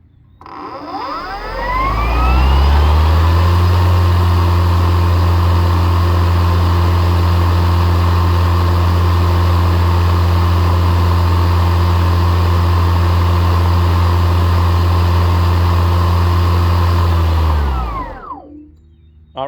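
A Ryobi 40V Crosscut battery lawn mower spins up over about two seconds, then holds a loud, steady electric whine with a strong low hum for roughly fifteen seconds before winding down and stopping. No one talks.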